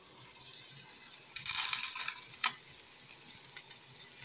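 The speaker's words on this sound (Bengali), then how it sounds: "পেঁয়াজ রসুন হালকা ভাজা হয়ে গেছে" Onion and garlic sizzle lightly in a pan as they are stirred, with soft scraping bursts that come and go at low volume.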